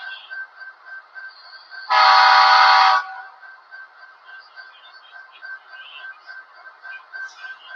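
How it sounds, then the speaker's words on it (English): A model Genesis locomotive sounds one loud, steady horn blast lasting about a second, close by, set against a continuous electronic hum and faint chuffing from the running model train. "we'll toot his horn for you"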